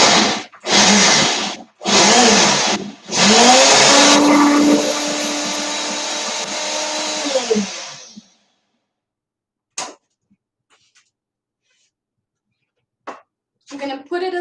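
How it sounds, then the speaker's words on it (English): Blender whirring loudly in a home kitchen while cooking zoodles and meatballs, several short pulses then a sustained run of about four seconds before it stops, followed by quiet with faint clicks and brief talk. "Okay, so blender is going on."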